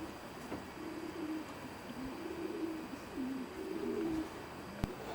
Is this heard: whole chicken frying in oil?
no